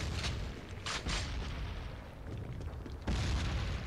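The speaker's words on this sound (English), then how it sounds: "Just toss a random grenade." Grenade explosions in the video game Killzone, online multiplayer on the Vektan Slums map: a few muffled booms rising out of low rumbling background noise, one heavier burst near the end, all fairly faint.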